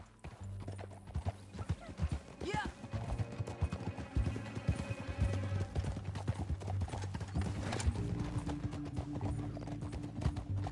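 A horse gallops in the video game Red Dead Redemption 2, with a rapid, continuous clip-clop of hooves and a brief whinny over a low music bed, while a voice speaks briefly.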